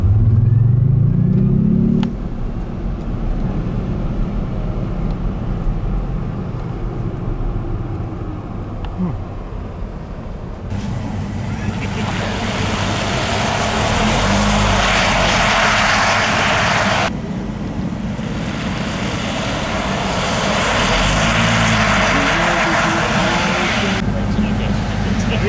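Digital sound generator in a 2018 Jaguar I-Pace First Edition electric car imitating a combustion engine inside the cabin during a 0-62 mph launch, a steady loud synthetic drone that swells in broad surges over continuous road and cabin noise.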